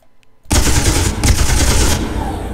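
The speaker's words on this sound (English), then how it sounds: "We've got a 4 here for machine guns." Machine gun turrets in the space game Space Engineers open fire after a brief quiet, unleashing a loud, dense, sustained burst of rapid automatic shots that runs for about two seconds.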